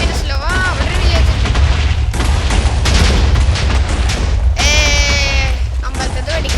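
Repeated booming TNT blasts in a Minecraft village, a loud dense barrage of explosions running continuously with game sound effects layered over it.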